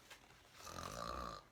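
A voice imitates a person snoring while reading a book, a quiet rasping inhaled snore that swells and fades within about a second, soft and close.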